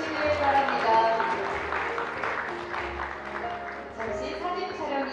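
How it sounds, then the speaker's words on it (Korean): At an award ceremony for a national order of merit, the audience claps steadily at moderate volume while a voice talks over the applause. "여러분 다시 한번 축하의 박수 보내주시길 바랍니다."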